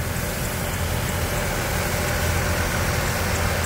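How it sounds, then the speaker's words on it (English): A 2006 Chevy Trailblazer engine runs at idle, a smooth, unbroken hum with a soft low rumble, steady and close throughout. "That's the engine running."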